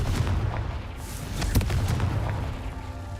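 A Confringo blast spell fires in the Hogwarts Legacy video game, making a booming burst with a sharp crack near the middle over a continuous low rumble, fairly loud throughout.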